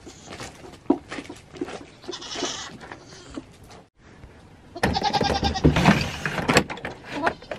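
Goats kept at a house bleat loudly, with scattered cries early on, then a louder burst of overlapping bleats near the end. Some rustling can be heard between the calls.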